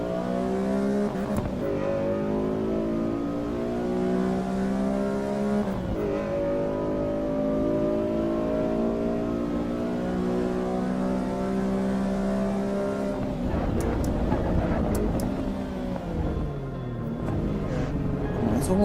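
Race car engine in Assetto Corsa EVO revving hard through the gears, rising pitch sweeps broken by shifts and a downshift near the end, loud and continuous throughout.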